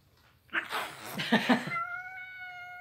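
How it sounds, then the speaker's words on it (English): Several pet cats at home, with a short burst of meows and a tonal, whiny cat cry near the mic that trails into a sustained high tone. "We have 7 kitties actually, and they're all with us right now."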